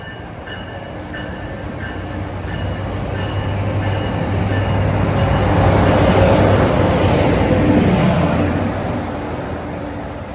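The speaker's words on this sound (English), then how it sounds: "Some inbound equipment train approaching." A New Jersey Transit EMD diesel train, an inbound equipment move, passes by, its steady engine drone and rolling wheel noise swelling as it nears and easing away over about ten seconds with no talk.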